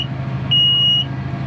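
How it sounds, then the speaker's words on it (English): A steady electronic alarm tone sounds for about half a second inside a tractor cab while sowing winter wheat, over the low drone of the engine. "that alarm goes off now until I go back to the seed"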